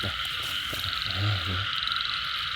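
Frog in a forest clearing during the rainy season, giving a single low croak partway through, heard under a constant loud chorus of insects and other frogs.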